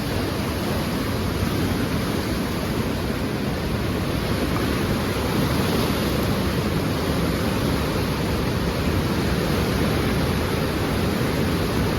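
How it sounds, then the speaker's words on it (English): Whirlpool river rapids roar in a broad, unbroken wash of rushing water, loud and steady throughout with no voices. "Quite the waves."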